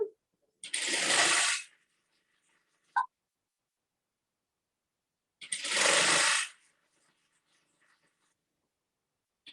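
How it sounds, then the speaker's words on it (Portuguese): Sewing machine stitching a patchwork strip in two separate bursts of rapid whirring, each about a second long, close and clear, with brief quiet clicks between them. "Eu vou costurar a primeira faixa."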